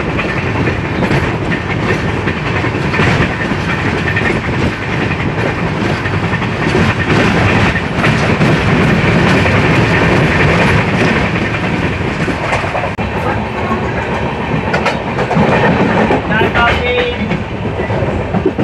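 The Bhubaneswar-Rameswaram weekly express rolls along at speed, a loud continuous rumble with rhythmic clickety-clack of wheels over rail joints heard from inside the coach throughout.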